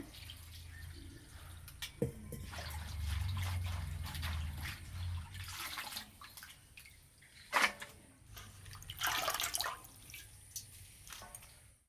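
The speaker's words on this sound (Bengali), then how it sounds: "এই বর্ষার সময় না শাকে একটু নোংরা বালি বেশি থাকে, সেই জন্য জলটা পাল্টে নিয়েছি। পরিষ্কার করে ধুয়ে নেব।" Leafy greens are rinsed by hand in a basin of fresh water to remove rainy-season sand, producing irregular splashes, drips and sloshing bursts with quieter pauses between them.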